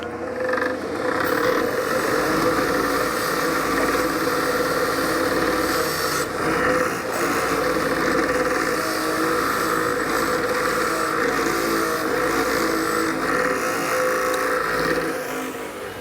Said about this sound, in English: I just clean it up on the bench grinder and then hot tank it.